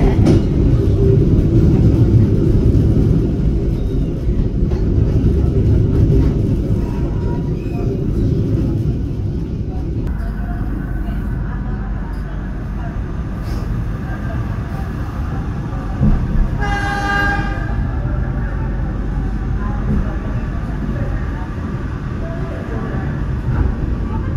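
An economy-class Dharmawangsa train from Jakarta rumbles steadily as it arrives at Jatinegara station, its low roar slowly fading, with a short horn toot sounding partway through and voices talking faintly.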